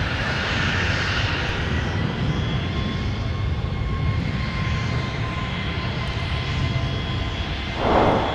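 Delta 153 Heavy airliner slowing on the runway with flaps and spoilers deployed, a steady loud broadband engine and air roar with faint tonal whine, continuous throughout at close range.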